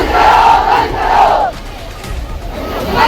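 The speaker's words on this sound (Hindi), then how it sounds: "उनके सामने कॉकरोचों की भीड़ है, नहीं डरेंगे के नारे लगा रहे हैं।" A protest crowd from the Cockroach Janata Party chants slogans in loud, rhythmic unison, with two strong drawn-out shouted phrases, a brief lull, then the chant rising again.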